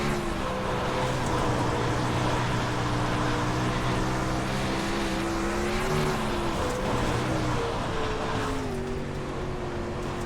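Winged sprint car engine in the iRacing game, a loud sustained drone with pitch rising and falling as the throttle is worked, sliding up and dipping in wavering sweeps, with no talk.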